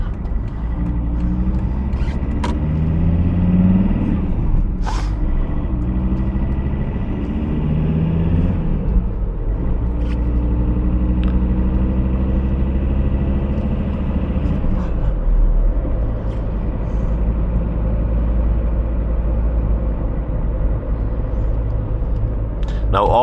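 A VW T4 2.5 TDi van with a 151 hp diesel drives along a narrow countryside lane, its engine giving a steady low rumble with shifting pitch. Someone talks over the engine throughout.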